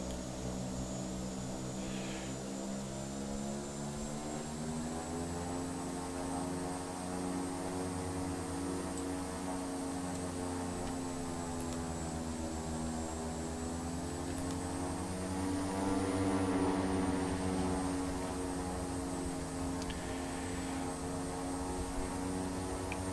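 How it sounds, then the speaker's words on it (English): OV-10 Bronco twin-turboprop in Microsoft Flight Simulator, a steady loud propeller drone with layered engine harmonics and a high whine, holding constant while taxiing, swelling slightly partway through. "So obviously, this being a prop plane, getting used to having a different mode of propulsion"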